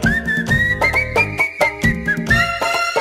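A person whistles a melodic tune in bright, sustained phrases, loud and close over a backing of music, with no talk.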